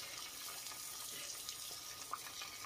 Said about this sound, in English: I'll be rinsing my hands off from here, get this egg off of me, fill my bowl up